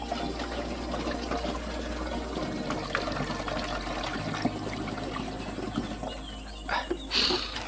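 Water trickling and pouring steadily into a container of homemade organic fertilizer in a garden, fairly close, ending in a brief louder splash, with birds faintly in the background.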